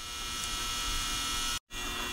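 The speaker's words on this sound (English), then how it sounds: "I got it back in the ultrasonic cleaner." Steady electric hum of an ultrasonic cleaner with a Honda GX390 carburetor from a John Deere pressure washer soaking inside, a constant buzzing drone that cuts out briefly near the end and resumes.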